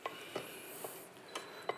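Spoon scraping and knocking inside a pot while mushrooms are stirred into a risotto, a few soft clinks spread over a low steady background hiss.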